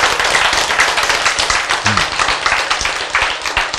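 Clapping from an audience at a church comedy talk on tithing, dense and steady for several seconds with sharp scattered claps, fairly loud and close, with no speech on top.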